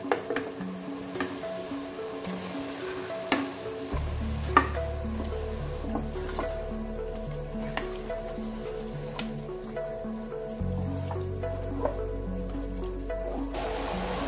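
Chicken sizzles and is stirred in a pan with onion and garlic for a biryani, giving steady frying crackle and a louder hiss as more ingredients go in, with occasional spoon scrapes.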